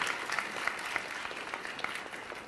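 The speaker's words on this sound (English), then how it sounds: "First of all, a round of applause to Marco" An audience at a Changemakers entrepreneurship event applauds, a steady dense patter of clapping hands from a crowd in a hall, with no speech over it.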